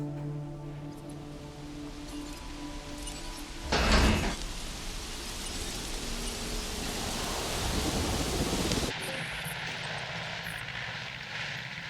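Thunderstorm with heavy rain in the video game Jurassic World Evolution, a steady downpour hiss with a loud thunder crack partway through and a rumbling swell after it, then the rain drops back.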